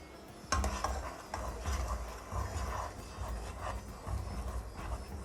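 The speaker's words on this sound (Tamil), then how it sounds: "ஜீரா கொதிச்சுட்டுருக்கு." Sugar syrup simmering in a pan for a saffron-tinted sweet, a steady low bubbling roar with faint sizzle and occasional soft stirring clatters, close and continuous.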